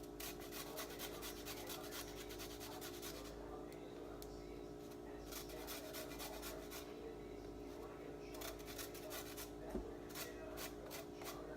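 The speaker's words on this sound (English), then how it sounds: "get my grater plane, and I'm going to use about a teaspoon of the lime rind into the slaw mixture" Lime rind rasped on a grater plane for a fish-taco slaw, a steady run of soft repeated scraping strokes close by under a constant low background hum.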